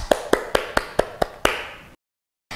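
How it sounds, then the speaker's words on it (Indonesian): Children at Sunday school clap hands, seven crisp evenly spaced claps in a quick rhythm, close and loud, then a pause before a final clap begins. "Yuk kita beri tepuk tangan."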